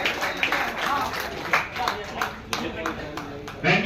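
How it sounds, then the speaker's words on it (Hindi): Enthusiastic clapping from an audience welcoming Ustad ji at a high-flyer pigeon tournament prize distribution in Ayodhya-Faizabad, Uttar Pradesh, dense close applause with sharp individual claps, lasting a few seconds. "जोरदार तालियां से उस्ताद जी का स्वागत।"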